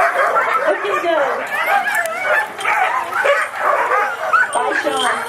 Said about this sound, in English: So you see the lead dogs coming right on through.